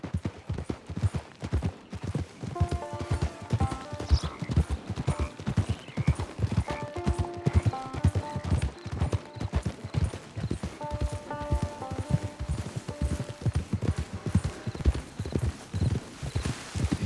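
Horse hooves in the video game Red Dead Redemption 2 clip-clop in a steady, continuous rhythm for several seconds, close and clear, with occasional faint neighs and soft background music.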